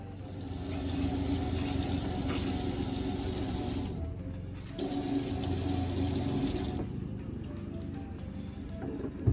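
Antifreeze and water run steadily from an RV faucet into a sink, a continuous close hiss that briefly cuts out and resumes as the hot and cold taps are switched.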